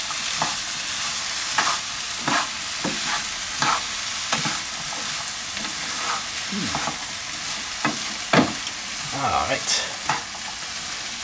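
Chinese food being stir-fried in a pan with a pair of spatulas: repeated scraping and stirring strokes over a steady sizzle, close and fairly loud, with one brief spoken word.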